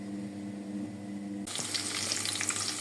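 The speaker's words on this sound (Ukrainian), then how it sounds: "Тут у мене жариться сало." Pork fat frying in oil in a pan, starting as a low steady hum and then erupting at the midpoint into a loud, dense crackling sizzle that continues to the end.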